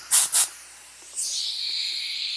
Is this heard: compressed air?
yes